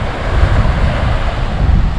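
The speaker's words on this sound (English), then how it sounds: "It's really stormy." Stormy wind and crashing sea waves at Koh Phi Phi beach in Thailand, a loud, continuous roar with heavy wind buffeting the microphone and no talking.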